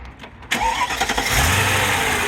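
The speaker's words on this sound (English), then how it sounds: "There it is. Lovely Mercedes V8, 302 horsepower, 339 pound-feet of torque." A Mercedes SL500 R129 V8, 302 horsepower, cranks with a sharp starter catch, then fires and settles into a loud, steady idle with a deep rumble close by.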